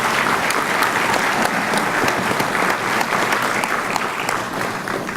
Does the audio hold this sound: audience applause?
yes